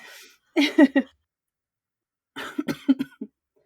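Two clusters of close, dry coughs, the first three quick coughs, then a longer run of several more after a pause of over a second.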